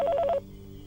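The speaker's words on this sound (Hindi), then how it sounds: "स्पीकर फोन का बटन।" A telephone's speakerphone button is pressed: a quick run of about six short electronic beeps alternating between two close pitches, then cutting off into a quiet line hum.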